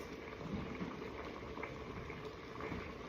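Spaghetti noodles boil in a pot of water on the stove, a steady, close bubbling and churning that holds evenly from start to finish with no one speaking.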